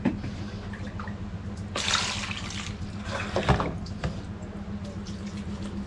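Water pours into a cooking pot in a rural kitchen for boiling banana blossom, a close splashing burst that swells, pauses and returns, over low steady background noise.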